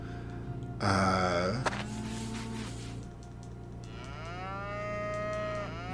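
Cattle in the farming game Harvest Moon: The Lost Valley give a loud, drawn-out moo, followed by a second, higher rising call that trails off, over a steady hum of in-game background music.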